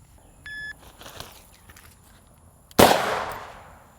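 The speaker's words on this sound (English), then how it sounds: "I'm using this is a Smith & Wesson Model 69 Combat in .44 Magnum, and I'm shooting this 300 plus grain freaky deaky bear ammo" A single loud, sharp shot from a Smith & Wesson Model 69 Combat .44 Magnum revolver firing 300-plus grain bear ammunition cracks close by, with a brief ringing decay and a faint electronic beep just before it.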